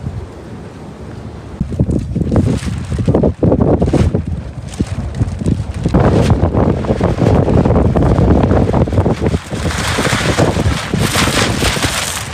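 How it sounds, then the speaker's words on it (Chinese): Strong gale of about force 6 gusting across open farmland near a newly built vegetable hoop greenhouse, a loud continuous roar buffeting the microphone, with surges and brief lulls and no voices. "这是风的声音吗？"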